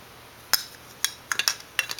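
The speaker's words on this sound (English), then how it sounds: "Are you putting your spoons in your cups?" Small spoons clink against cups as a child drops them in, making a few sharp, separate chinks spread across a quiet moment, some coming in quick pairs.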